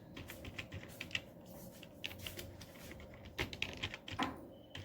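Fingers type on a computer keyboard while writing a MySQL query: quick, irregular clicks of keystrokes in small bursts, close and fairly quiet, with no talking.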